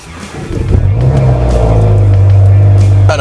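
A car engine fires up and settles into a loud, sustained exhaust drone, a deep steady note thick with rumble that holds close and strong to the end.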